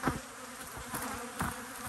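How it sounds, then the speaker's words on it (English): Honey bees buzz at an apiary, a steady close insect drone with a few louder swells as individual bees pass near, with no talking. "A lot of bees here."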